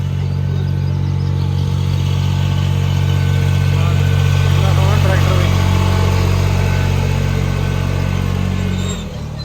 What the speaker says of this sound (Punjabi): ਟਰੈਕਟਰ ਆ ਗਿਆ